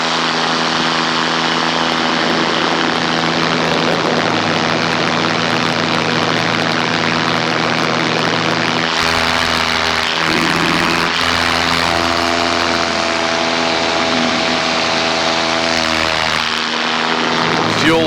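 Loud, steady drone of a paramotor engine and propeller in flight, close and continuous, with a strong buzzing whine and wind rush that shifts slightly in pitch as throttle changes; a voice is faintly present underneath.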